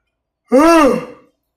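A single drawn-out human yawn, close and loud, rising then falling in pitch for under a second before trailing off into silence.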